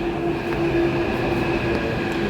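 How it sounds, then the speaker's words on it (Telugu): Green Line metro train arriving at a station: a steady rumble of a rail car rolling in with a sustained tonal hum, moderately loud and close, no talk. "వచ్చేసింది గ్రీన్ లైన్ మెట్రో."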